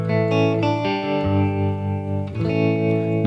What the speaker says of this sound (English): The reverb and trem are both coming from the Strymon Flint.